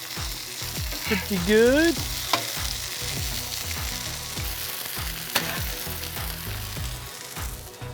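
Sausage frying in a pan with a steady close sizzle and crackle throughout, a brief clatter as the links are flipped, and a short spoken remark over the cooking.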